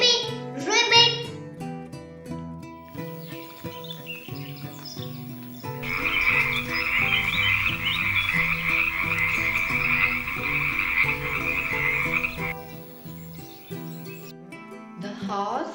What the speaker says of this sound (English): How does the frog sounds? Ribbit, ribbit, ribbit.